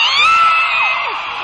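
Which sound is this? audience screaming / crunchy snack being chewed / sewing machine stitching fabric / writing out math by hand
audience screaming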